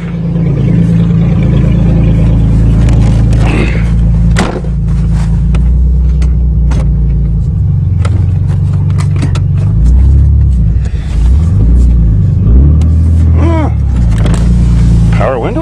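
A 1994 Ford Taurus wagon pulls away under repair. A loud, close engine rumble and road noise carry on steadily with some knocks and rattles, and voices talk over it.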